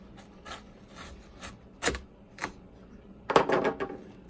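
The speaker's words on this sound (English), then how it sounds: "got your whole seedless watermelon, and we start out, cut it right across the middle. I'm using like kind of a fillet boning knife." Fillet boning knife slicing across the middle of a whole seedless watermelon, a few separate crisp cracks and rind crunches, then a denser cluster of crunching as the cut finishes.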